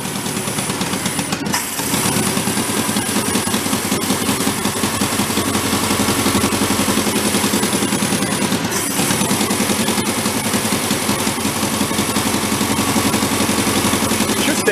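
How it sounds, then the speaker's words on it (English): An antique tractor engine with an exhaust leak runs loud and steady, its rough, rapid popping chatter continuous throughout apart from two brief dips in the rhythm. "we got an exhaust leak"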